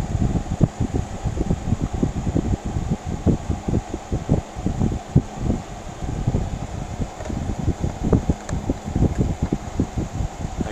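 A Danby 6000 BTU window air conditioner with a soft start runs steadily outdoors in roughly 90-degree heat, its low fan-and-compressor hum rumbling continuously with fluttering, gusty texture throughout.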